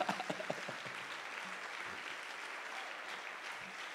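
Congregation clapping at a church service led by an apostle, a dense, steady patter of many hands that starts with a few sharp claps and then carries on evenly at moderate level.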